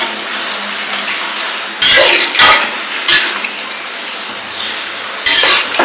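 Country chicken curry sautés in oil in a village kitchen, a steady crackling sizzle broken by several loud bursts of stirring and pan scraping.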